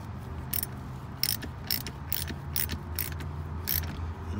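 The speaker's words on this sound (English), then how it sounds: "Take our 10 millimeter and go ahead and tighten this" Ratchet wrench with a 10 mm socket tightening a battery terminal nut on a new Alfa Romeo Stelvio: about seven quick bursts of sharp pawl clicks at a steady rhythm, close up over a low background hum.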